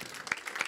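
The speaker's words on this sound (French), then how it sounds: "donc je crois qu'on peut applaudir Joël," An audience at a municipal council meeting applauds, a brief spell of soft, scattered clapping that sounds fairly distant.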